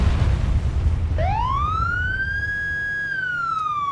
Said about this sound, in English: It's got actually different sirens as well, it's not just one siren.